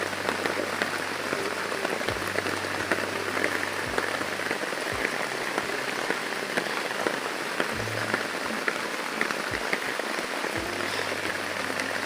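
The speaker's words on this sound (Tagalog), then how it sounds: "Ang lakas ng ulan." Heavy rain pours steadily, a dense hiss of drops drumming on a surface, with a few faint low thumps underneath.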